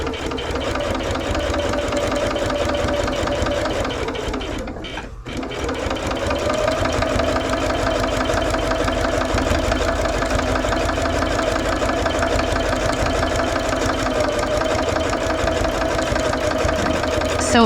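Sewing machine stitching rag quilt blocks together, a steady fast mechanical whir with a brief pause partway through before it resumes and runs continuously.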